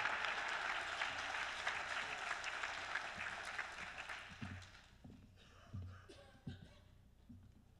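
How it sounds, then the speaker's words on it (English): An audience at a library leadership awards ceremony applauds, dense and steady at first, then thinning to a few scattered claps and shuffling near the end. "please give all of these people a round of applause"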